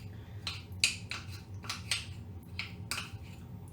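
Biscoff spread and butter whisked together in a bowl, with a utensil scraping and tapping against the bowl in short, evenly spaced strokes, close up, over a low background hum.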